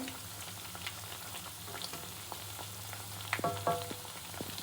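Oil sizzles and crackles steadily as vada fry, with occasional soft clinks of a utensil stirring in the pan.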